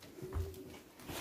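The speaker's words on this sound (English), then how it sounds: "There's loads of pigeons in there." A pigeon gives a short soft coo inside an abandoned RAF airbase building, quiet and brief against faint room noise.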